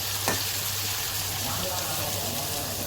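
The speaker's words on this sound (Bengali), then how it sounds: "দেখুন আমার ভাজি হচ্ছে।" Bitter gourd (ucche) bhaji frying in plenty of oil, a dense, even hiss and sizzle that holds steady the whole time, close and fairly loud, with a brief clink near the start and no clear speech.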